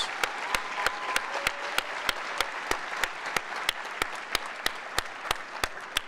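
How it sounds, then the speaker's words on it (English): Audience applause at a 2019 Resiliency Preparatory Academy graduation ceremony, a steady wash of many hands with a few loud, regular near claps punching through for about six seconds, no talking. "let's give a big round of applause and thanks to all the teachers"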